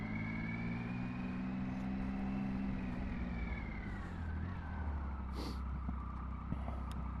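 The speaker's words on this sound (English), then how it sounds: "All this amount of traffic." Steady road traffic rolls past nearby, a continuous broadband rumble of cars and heavier vehicles with a brief hiss like an air brake midway, no talking.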